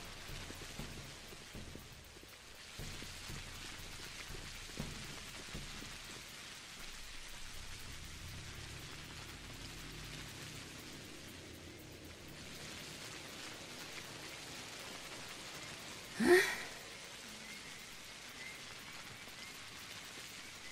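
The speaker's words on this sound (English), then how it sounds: "It's really raining here, isn't it?" Rain falls steadily in the 2005 video game Pathologic, a soft, even hiss that continues throughout, with a single sharp burst standing out near the end.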